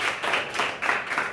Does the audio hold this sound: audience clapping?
yes